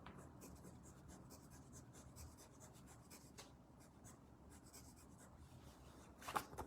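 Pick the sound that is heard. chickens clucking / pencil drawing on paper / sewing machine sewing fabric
pencil drawing on paper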